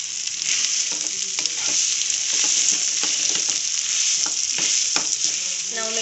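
Potato masala filling for kachori is stirred in a hot pan with a continuous sizzle of frying, while a spoon scrapes and taps the pan at irregular moments; the sound is close and even, with no talking.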